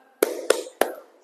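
Three sharp, evenly spaced claps of a classroom 'tepuk semangat' cheer clap, loud and close, ringing briefly in the room between each beat.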